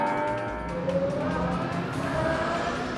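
Formula 1 car at the Australian Grand Prix taking turn 9, a loud steady engine roar with shifting pitch as it brakes and eases on the throttle, close and continuous without pause.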